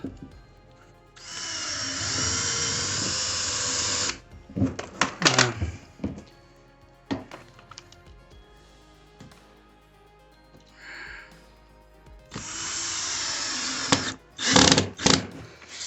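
A power drill drives screws into a plastic igloo dog house during assembly, with long buzzing runs, a burst of short clicks and clatters between them, then more drilling near the end.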